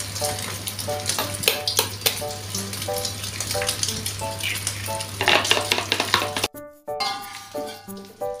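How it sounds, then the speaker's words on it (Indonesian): Tempeh frying in hot oil for Palembang-style pempek cooking, a steady dense sizzle with crackling spits and occasional stirring clatter throughout, a steady low hum beneath, briefly cut near the end. "digoreng tempenya"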